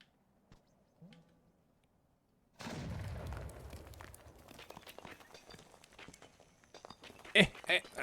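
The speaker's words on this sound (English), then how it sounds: "The explosions are great." Explosions with smoke effects in the video game Animal Well: after near silence with faint ticks, a sudden loud burst starts a rumbling crackling stretch of booms and pops, with a sharp bright blast near the end.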